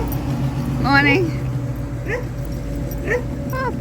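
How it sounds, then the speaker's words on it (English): Puppy whimpering and yipping at a vintage van festival, several high, wavering whines and short yips spread across a few seconds over a busy outdoor background, with a person talking nearby. "Oh, puppy."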